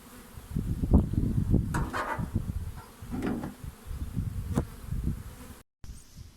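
Honeybees buzz around a hive, a dense humming swarm with individual bees droning close past, rising and fading.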